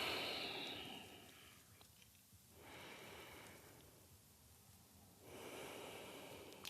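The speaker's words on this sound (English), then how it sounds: "And take some deep breaths here." Slow, deep breaths during a yoga pose, faint and airy, rising and falling in long cycles of inhale and exhale, close but quiet with no talking.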